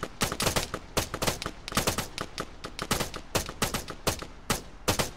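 Rapid bursts of gunfire crackle through a video game bounty hunter shootout, sharp shots and short volleys repeating close and loud in uneven clusters with no talk over them.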